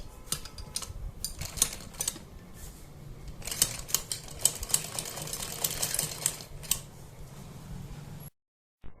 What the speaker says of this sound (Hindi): यहाँ पर सिलाई लगाएंगे और फिर इस तरह से दूसरी साइड भी सिलाई लगा देंगे